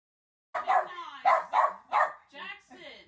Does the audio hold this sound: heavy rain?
no